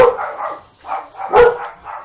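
Barking from dogs comes in a few loud, ragged bursts close by, broken by short pauses, with no voices, while an imperial stout homebrew is being tasted.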